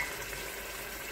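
Water, 2.5 cups, poured into a pot of palak gosht, a steady rushing splash that fills the whole moment at even loudness.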